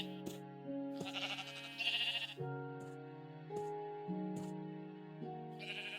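Sheep bleat in Minecraft at a pink sheep sanctuary, several short bleats spread over steady background music with sustained notes.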